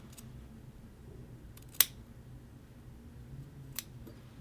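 Scissors snipping fabric while trimming the seam allowance of a men's shirt collar band, two sharp isolated cuts about two seconds apart against a quiet room.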